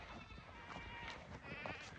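Goats bleat faintly while being herded to strip bark from sumac trees, with overlapping wavering cries over a busy, noisy outdoor background.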